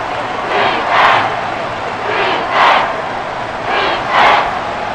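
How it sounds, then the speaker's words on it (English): A packed stadium crowd at Arrowhead in the video game Madden NFL 24 roars loudly and continuously, swelling into three big surges a little over a second apart. "The Arrowhead crowd in full roar."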